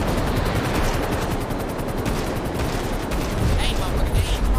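Rapid automatic gunfire aimed at jets in GTA 5, a dense, continuous rattle of shots filling the whole stretch, loud and close, with a busy game mix underneath.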